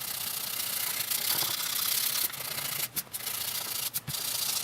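Steady abrasive sanding of epoxy grain filler off a Gibson Les Paul Studio guitar top, with a continuous gritty rasp, briefly pausing and dipping a few times, close and fairly loud with no voices.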